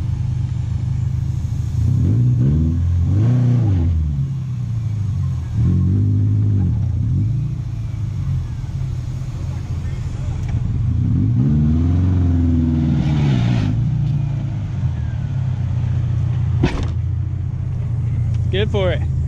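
A Toyota off-roader's engine revs hard in long surging bursts as it tries to back up a muddy hill, with a steady low rumble underneath and voices talking over it at times.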